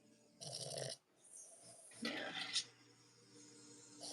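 Someone snores nearby in a pottery studio, with a few rough, breathy snores spaced irregularly and moderately loud against a quiet room.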